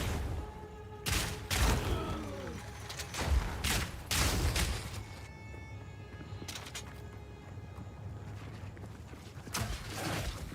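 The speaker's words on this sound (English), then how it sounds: "I'm going for some grenade build here. So you'll see lots of explosions." Repeated grenade blasts in Path of Exile 2, a cluster of sharp booming bursts spaced through the stretch with ringing tonal game effects between them, loud and with no voices.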